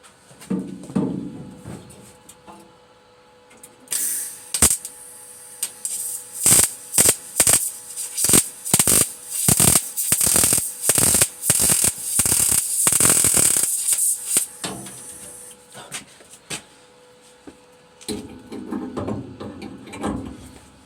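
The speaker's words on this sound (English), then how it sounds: "I'm going to do a lap weld on this one" Lap weld on clamped, cleaned metal: a close, loud welding arc crackles and sputters in a run of uneven bursts for about ten seconds, with quieter moments before and after.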